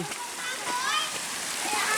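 A forest waterfall near Prakaiphet Cave at Pang Pu Lo, Mae Chai, Phayao, Thailand, gives a steady, close hiss of rushing, splashing water, with voices talking faintly underneath.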